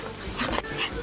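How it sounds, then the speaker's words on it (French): A small dog lets out a brief whimper that breaks into a yip, close and fairly loud, during a walk through town by a river. "Petit chien."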